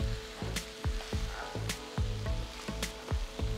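About a kilo of chicken fries with masala in coconut oil in a pan for a Kerala-style curry: a constant sizzle broken by regular clanks of stirring, heard close and alone.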